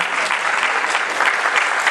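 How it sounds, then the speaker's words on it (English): Loud, dense audience applause at a school annual function, a steady wash of clapping hands that holds evenly for about two seconds with no voices standing out. "So please give her a huge round of applause."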